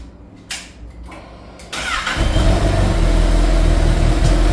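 Honda CB1000 SP Hornet motorcycle with its stock exhaust: a couple of clicks and a brief starter whir, then the engine catches around two seconds in and settles into a steady, fairly subdued idle, with no talking.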